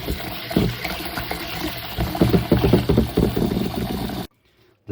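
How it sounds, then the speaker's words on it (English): Dal lentils being washed in water while making dosa and idly batter: steady splashing and swishing with rhythmic sloshing pulses in the second half, close and fairly loud, ending abruptly in near silence. "Wash the dal."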